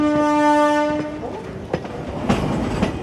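A passenger train drawing near and rolling past, its horn blaring loudly for about a second before fading into rumbling wheels and sharp clacks over rail joints, with a faint voice in the background.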